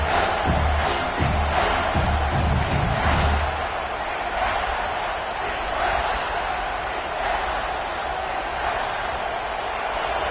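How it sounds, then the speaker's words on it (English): A large football stadium crowd in a South Carolina versus UCF game roars to back the defense on third down, a dense, sustained cheer with heavy rhythmic thumps early on that ease into a steady wash of noise. "Decibels rising as the crowd gets behind this defense on 3rd down"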